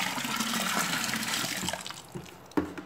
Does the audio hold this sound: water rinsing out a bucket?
yes